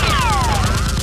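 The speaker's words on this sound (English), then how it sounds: "hears the gunfire and quickly runs upstairs" Rapid bursts of loud automatic Nerf gunfire rattle close by, with a descending whistling tone sweeping underneath.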